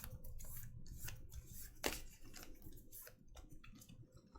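Shuffling an encounter deck of cards for the Marvel Champions card game, quiet papery riffling and rustling bursts over faint room noise, with no talking.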